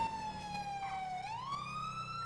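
Police siren wailing in GTA roleplay, a steady tone that dips and then sweeps upward, loud and close over a low engine rumble, with no talk.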